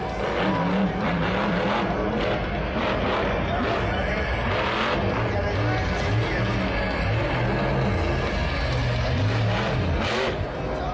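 The Overkill Evolution monster truck roars through a Monster Jam World Finals freestyle run, its engine revving and surging continuously, loud and close, while an announcer talks over it and the crowd noise washes underneath.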